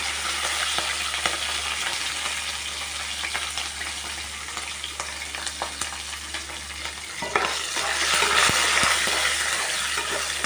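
Green chillies and dried red chillies fry in oil for a lemon rice tempering, a continuous close crackling sizzle with scattered pops and stirring scrapes that grows slightly louder toward the end.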